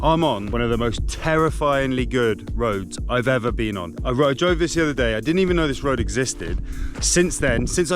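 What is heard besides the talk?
No everyday noises stand out.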